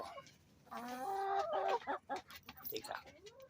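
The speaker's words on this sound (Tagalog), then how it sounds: "Ito po yung mabalahibong manok ko." A fluffy, heavily feathered pet hen clucks and trills nearby in a quick series of calls, some rising and wavering, with faint background noise and no clear talk.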